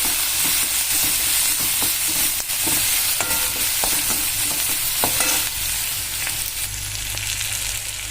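Medium-chopped onion frying in oil on a wood-fired stove, a loud dense continuous sizzle with occasional stirring clicks and scrapes throughout, no voices.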